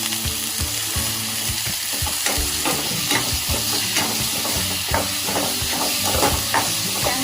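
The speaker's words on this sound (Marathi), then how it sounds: "ह्याच्यामध्ये घालूया कढीपत्ता आणि टोमॅटो." Curry leaves and tomato added to onion and ginger-garlic paste sizzle loudly in a pan of sprouted moth bean curry, a dense hissing fry with repeated scraping taps of a spoon stirring throughout.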